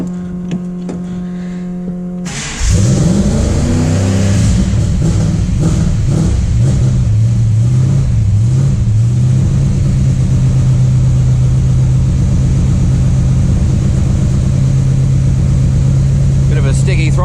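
A new Ford 351 Cleveland V8 cranks, catches and roars to life, then settles into a loud, steady idle with some rough throttle blips early on, running close and continuous to the end.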